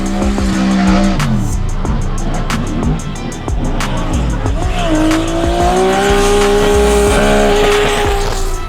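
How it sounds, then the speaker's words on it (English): Drift cars at a D1NZ drifting round at Manfeild, including a Ford Mustang, roar loudly at high revs with long tyre squeals and rising engine tones, under commentary throughout. "The Ford Mustang spinning out at clip 4."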